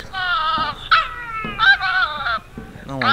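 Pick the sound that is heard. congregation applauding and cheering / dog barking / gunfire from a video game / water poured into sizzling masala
dog barking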